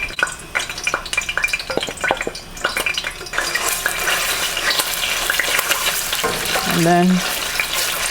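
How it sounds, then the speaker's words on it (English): Tomato paste stew base frying in oil for jollof rice, a loud close hissing sizzle with stirring scrapes, and a brief voice speaking near the start. "I'm going to fry the stew base now"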